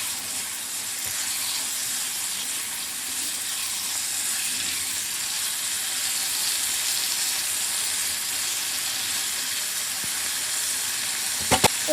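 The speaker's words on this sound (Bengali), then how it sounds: "মাছটা দেওয়ার পরে একটু কষিয়ে নেবেন।" Tengra fish sizzles in spiced oil with onion-based masala, a steady, moderately loud hiss that runs unbroken, ending with a couple of sharp utensil knocks at the close.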